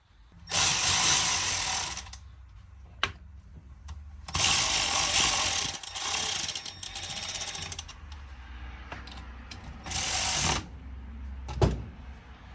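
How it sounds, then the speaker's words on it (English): A tool tightens Allen bolts on a BMW 335d hybrid turbo during a rebuild, with three bursts of close mechanical whirring and ratcheting, short clicks and knocks between them. "You just throw the new gasket on here and you tighten up the Allens."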